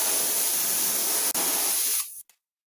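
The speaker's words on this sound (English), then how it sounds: "Spray the black paint right over top of it." A spray can of black paint hisses steadily and loudly up close for about two seconds, with one brief break, then cuts off into silence.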